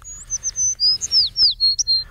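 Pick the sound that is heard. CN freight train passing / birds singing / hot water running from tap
birds singing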